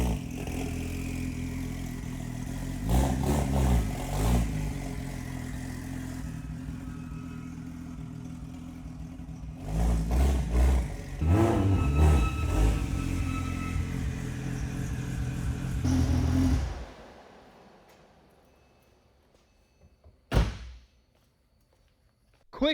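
A rebuilt, previously trashed Porsche 911 Turbo is driven at night, its engine rumbling low and swelling in several surges with clunks and rattles, then dropping away to near silence broken by a sharp thump.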